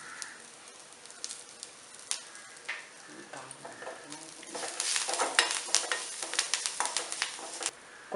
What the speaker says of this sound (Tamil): இந்த வரமிளகாய், இதை நம்ம பொடிச்சு வச்சுருக்கிறதையும் போட்டு கொஞ்சம் பிரட்டிக்கலாம்